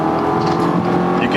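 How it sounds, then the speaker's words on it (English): Engine of a 2018 Subaru Outback running rough under hard acceleration while merging onto a freeway, a steady droning hum with coarse harmonics heard from inside the cabin, with a voice talking over it. "You can hear when you push it, there's a real rough sound to the engine."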